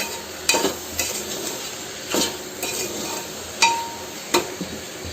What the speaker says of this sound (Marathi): खालवरचं करून घ्यायचे, पूर्ण मिक्स करून घ्यायचे आहे।